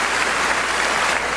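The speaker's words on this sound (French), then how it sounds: "Un applaudissement pour notre Seigneur." A congregation at a church Bible study applauds, dense and even clapping that fills the short moment without any talk over it.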